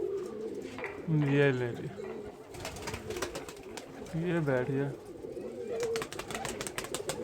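Pigeons let out on top of a net flap their wings in two loud bursts and coo softly, close by. Someone talks over and between the flapping.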